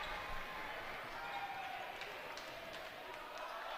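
A volleyball is spiked into the hardwood floor at Yardley Court during a boys' high school match, giving a few sharp smacks and thuds over a steady murmur of gym crowd noise.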